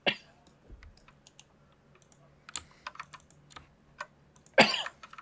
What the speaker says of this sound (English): got the cough going.